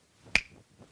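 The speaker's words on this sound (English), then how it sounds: "you'll wake up when I snap my fingers" A magician gives a single sharp finger snap, close and crisp, then a faint rustle in an otherwise quiet room.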